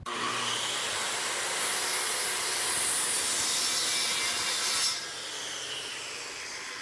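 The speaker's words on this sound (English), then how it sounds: "you just take your circular saw and you make repeated cuts on here over and over again" A circular saw makes repeated cuts in wood, giving a steady, loud, hissing grind that eases slightly near the end, with no voices.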